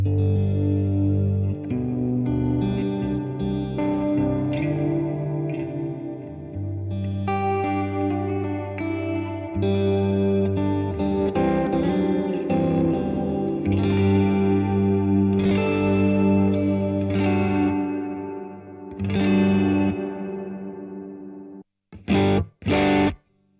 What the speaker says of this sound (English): the last stereo effect which I had in there, which I thought sounded beautiful, was this big dreamy reverb